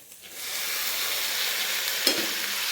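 Onions sauté in a pan as mochai beans wait nearby, giving a steady soft sizzle with a faint stir and a brief clink about two seconds in.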